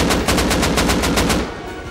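Rapid automatic gunfire in the survival game Rust rattles out as a dense, continuous burst of evenly spaced shots, loud and close, before fading toward the end.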